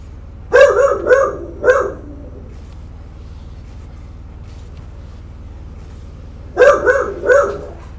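A dog in a room gives two quick bursts of about three loud, sharp barks each, several seconds apart, over a low steady background hum.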